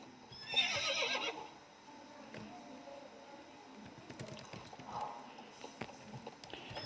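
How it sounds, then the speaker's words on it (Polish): A white horse in a video game whinnies loudly, then its hooves clip-clop steadily and softly for several seconds, with no talk over it. "Tutaj jest mój początkowy koń, który jest biały."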